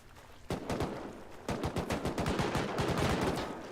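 Rapid automatic gunfire in an online shooter game, bursts of close, loud shots firing in quick succession after a brief pause, with no talk over them.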